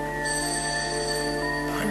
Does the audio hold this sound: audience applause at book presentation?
no